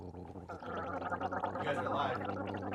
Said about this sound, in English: take a little sip of water Yep. and hold it back and then gargle with sound.